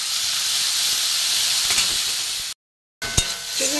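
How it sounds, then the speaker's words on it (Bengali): Prawns frying in a pan over a gas flame give a steady, close sizzling hiss with a short break and a brief clink of stirring. No voices. "চিংড়ি মাছটা মোটামুটি ভাজা হয়ে গেছে"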